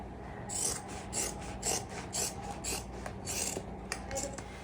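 Scissors cut through fabric for an apron in a quiet room, making faint, repeated crisp snips and rasps in a steady rhythm of about ten cuts.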